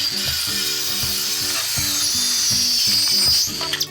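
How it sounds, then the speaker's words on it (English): A Bosch electric circular saw cuts through wood for a no-dig garden build, a loud close mechanical whir with a rhythmic, ratcheting pulse that runs steadily before trailing off at the end. "we cut them down using my handy dandy Bosch electric circular saw"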